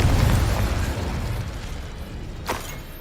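A Confringo fire-blast spell explodes in Hogwarts Legacy, a loud broadband blast up front that rumbles down over a few seconds, with a second sharp crack near the end.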